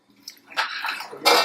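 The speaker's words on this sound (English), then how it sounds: "Let me just stir this." Food in a pot at a senior center kitchen is stirred in a few short, wet, squishing and sloshing strokes, close and brief, with no talking.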